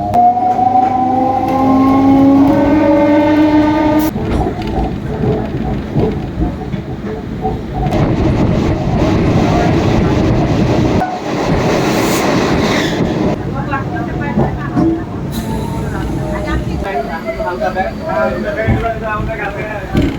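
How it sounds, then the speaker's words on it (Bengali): An empty passenger train running from Kalyani Ghoshpara toward Sealdah gives a steady, loud rolling rumble with rail clatter throughout, a brief tonal whine at the start and faint voices in the carriage. "কল্যাণী ঘোষপাড়া থেকে উঠলাম ট্রেনে, আর ট্রেন এই মুহূর্তে সম্পূর্ণ ফাঁকা"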